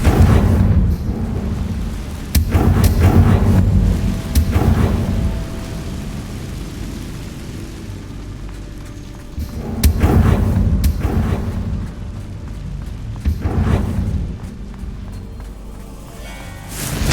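Confringo fire spell explosions in the video game Hogwarts Legacy: several heavy booming blasts in bursts with rumbling decay between them, loud and close.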